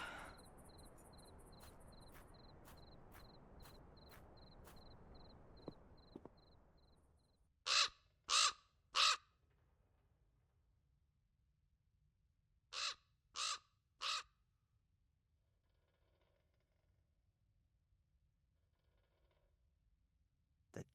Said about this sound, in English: The damn bird again.